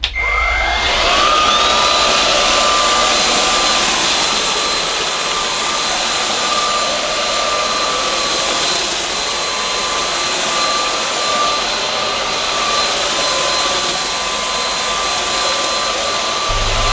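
A Moosoo K17 cordless vacuum cleaner runs on wiry, short-pile showroom carpet with a loud, steady high-pitched motor whine that holds constant throughout.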